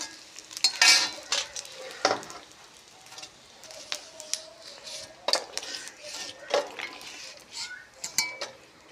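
Papad frying in a pan, bursts of crackling sizzle and clinks of utensils against the pan coming in uneven spurts, with a voice talking at intervals.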